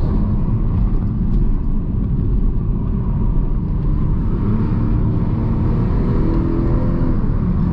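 A 2022 BMW Z4 M40i engine runs in sport mode as a deep, continuous rumble, heard from inside the car alongside steady road noise, with no voices.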